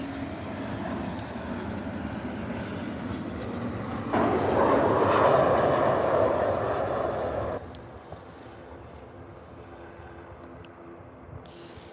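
A Helvetic Airways plane from Zurich lands with a broad jet roar that swells, peaks in the middle and then drops to a lower rumble, heard from a distance with some talk around it.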